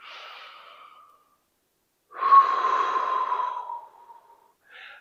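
Deep breathing drawn slowly during a kung fu exercise for back pain: one soft breath, a pause, then a long, loud, close inhale-exhale lasting over a second, and a short final breath.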